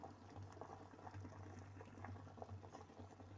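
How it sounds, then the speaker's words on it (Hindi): Water with urad lentils boils at a steady low rumble, small bubbles popping irregularly close by; faint and continuous with no voices. "देखिए अब इसमें उबाल आना शुरू हो गया है"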